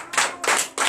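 Congregation clapping at a Sunday church service, three bursts of claps in a steady rhythm, close and fairly loud, with no voices over them.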